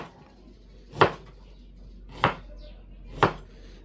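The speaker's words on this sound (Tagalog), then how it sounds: "Hinihiwa na po ni RJ yung pong labanos." Radish sliced with a kitchen knife on a cutting board, three sharp, close chops spaced about a second apart against quiet background hum.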